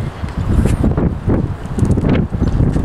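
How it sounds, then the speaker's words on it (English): Strong wind buffets the microphone during a rental bike ride near a bridge in Gifu, Japan, as a loud, low, gusty rumble that swells and dips throughout. "Very careful, super windy."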